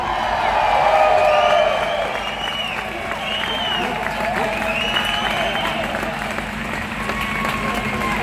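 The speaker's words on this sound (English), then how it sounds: "please make some noise for John Pilger!" A big outdoor crowd in London cheers and applauds for John Pilger at an Assange "No Extradition" rally, loudest in the opening two seconds and then holding as a steady roar with whoops and talk mixed in.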